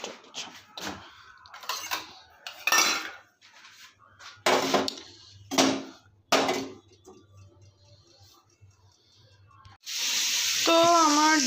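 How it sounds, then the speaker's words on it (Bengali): Potatoes browning in hot oil with whole cumin seeds hiss and sizzle in short bursts between quiet gaps, then a loud continuous sizzle swells near the end, with a faint clink of utensils. "তেলের মধ্যে গোটা জিরে দিয়ে আলুটাকে একটুখানি ব্রাউন করে নেব।"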